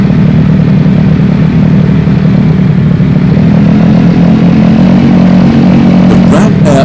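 A TVS Apache motorcycle engine runs loud and steady on a race track, with a constant droning hum that holds at high RPM throughout, then a brief sharper burst near the end.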